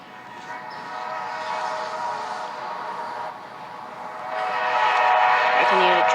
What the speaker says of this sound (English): I can hear a train now.